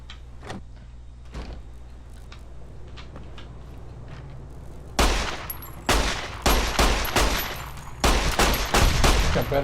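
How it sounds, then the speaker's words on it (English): Gunfire aimed at praying mantises in modded Fallout New Vegas: a few faint isolated shots first, then a rapid, loud run of sharp reports, each with a short echoing tail. "Just wasted 15 bullets on 5 praying mantis."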